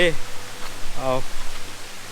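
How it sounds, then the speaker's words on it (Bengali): Steady broadband rush of the Mithachhari waterfall on the Napittachora trail, running with somewhat low flow, continuous and fairly loud under a person speaking in the foreground. "মিঠাইছড়ি ঝর্নার সামনে মানে নাপিতাছড়া ট্রেইলের মূল ঝর্নার সামনে পানির ফ্লো একটু কম"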